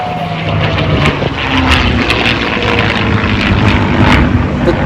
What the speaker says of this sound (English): Un autre passage, on récupère le Spitfire et en dernier lieu, on récupérera le Mustang.